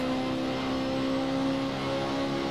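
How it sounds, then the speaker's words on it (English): BMW race car engine at Road America in the Assetto Corsa racing game, a loud steady high-pitched tonal drone held for a couple of seconds with no breaks. "Hard to hear me over the engine."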